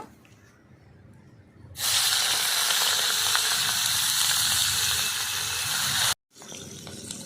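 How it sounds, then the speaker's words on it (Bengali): Prawns coated with salt and turmeric drop into hot oil, setting off a loud, steady sizzle that holds for several seconds, cuts off abruptly and then resumes more quietly; a quieter hiss comes before it. "চিংড়ি মাছটা আগে ভেজে তুলে নেব"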